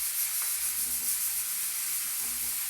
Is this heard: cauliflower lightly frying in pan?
yes